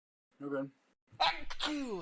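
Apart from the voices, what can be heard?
sneeze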